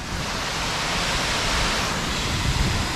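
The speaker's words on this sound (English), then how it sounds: "And that's the upper waterfall." Upper waterfall tumbling down a hillside, heard as a steady, loud, broadband rush of falling water with no breaks, close by and alone.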